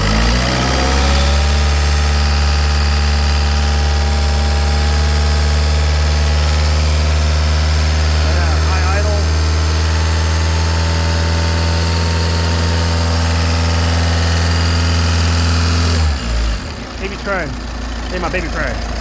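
A 2014 VW Passat TDI diesel held at high idle: a loud, steady, close engine drone with strong low rumble running continuously, then dropping away near the end, with a voice briefly heard over it.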